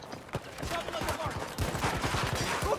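An RPT-31 light machine gun fires in Battlefield 2042 in fast, rapid bursts of punchy shots, close and steady, with a voice talking now and then over the gunfire.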